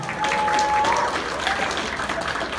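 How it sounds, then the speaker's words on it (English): A crowd applauds a contestant at the VancouFur 2018 furry convention: a short burst of loud, steady clapping that fills the space before tapering off slightly. "Round of applause for Marlo."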